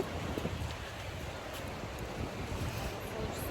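Wind rushing steadily across the microphone, a constant low roar with no voices, outdoors in Bartın, Turkey, as if near open water.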